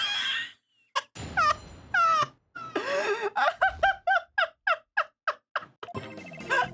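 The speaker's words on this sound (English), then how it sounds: "This time I was getting some real fucking crow sounds in here" Crow caws in Ace Attorney: Dual Destinies, a rapid string of short, harsh, evenly spaced squawks after a few longer calls, loud and close with no talking over them.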